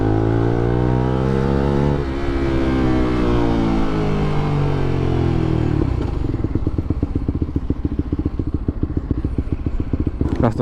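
Loud, close motorcycle engine revving high, then dropping to a rough, rapidly pulsing idle that thumps and clatters steadily to the end.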